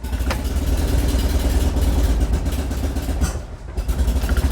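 A Citroen 2CV flat twin engine runs steadily at a close, loud idle, with a brief dip in level near the end before it picks back up.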